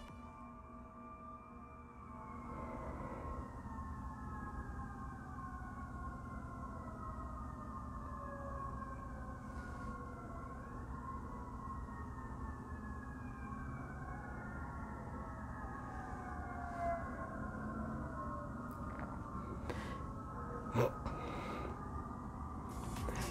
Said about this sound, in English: that's a swarm of ambulance and fire emergency vehicles